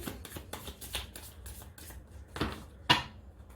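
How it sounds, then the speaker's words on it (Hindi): Tarot cards are shuffled by hand in several quick riffling bursts, close and fairly quiet, ending in one sharper slap of the deck. "Okay let's shuffle one more time."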